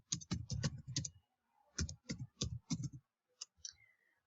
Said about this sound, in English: let's type here